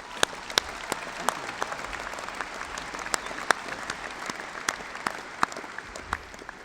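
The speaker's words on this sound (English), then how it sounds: "let's give them another round of applause." Commencement crowd applauding faculty, a broad sustained wash of many hands with individual sharp claps popping out near the front, steady for several seconds.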